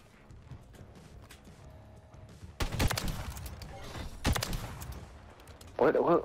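Gunfire in a shooter video game, sounding as two loud bursts of shots around the middle of the clip and a sharper crackle at the end, over quiet background game noise.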